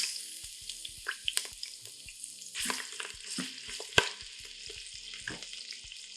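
Chicken browns in hot sesame oil in an Instant Pot, giving a quiet, close sizzle with crackling pops and spits plus a few sharper handling clicks, and no talking.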